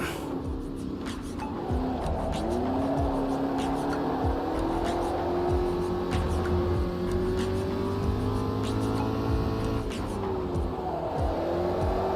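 A race car in a racing video game revs continuously while warming its tyres, the engine tone rising and falling with quick clicks and thumps over a steady rumble; a person talks intermittently.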